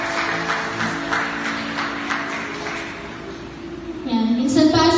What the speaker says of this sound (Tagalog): Minsan pa sa malakas na palakpak para sa ating Panginoon Diyos